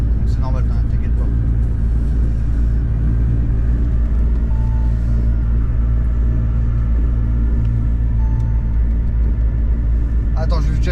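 Audi S3 tuned by ABT to 400 hp, engine running steadily as a constant low rumble throughout, loud and continuous with faint background voices at moments.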